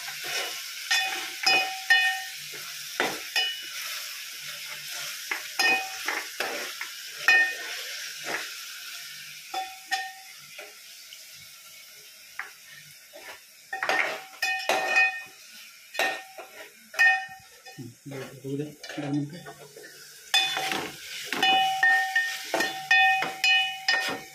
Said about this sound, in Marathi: आता ते चांगलं मिक्स करायचं आहे